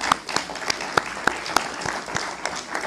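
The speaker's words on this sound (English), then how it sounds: "please give them a round of applause" An audience at an energy forum gives a short round of applause, with individual claps standing out clearly over a softer bed of clapping from a modest crowd.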